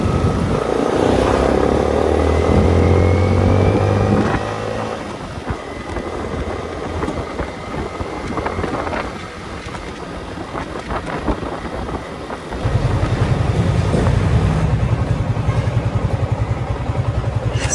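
A Yamaha Sniper 155 motorcycle that had been sitting in storage idles close by to warm up, its engine a steady low rumble that grows louder and rougher partway through.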